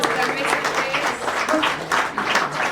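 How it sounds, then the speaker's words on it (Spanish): Applause from the audience for a panel at a community discussion forum, close and fairly loud clapping with voices talking over it throughout. "Un aplauso a nuestra mesa"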